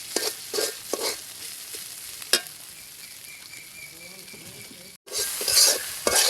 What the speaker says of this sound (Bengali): মশলাগুলো একটু কষিয়ে নিব